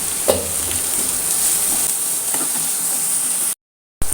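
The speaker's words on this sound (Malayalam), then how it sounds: "വഴറ്റി കൊടുക്കാം നമ്മൾ" Chicken masala sautéing in a pan with salt just added, a steady close hiss of frying with occasional scrape and stir knocks, broken by a short silent gap near the end.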